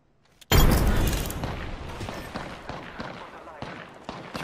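A frag grenade detonates in a shooter game with one loud, sharp boom that rumbles and decays over several seconds, scattered pops and shots continuing faintly behind it.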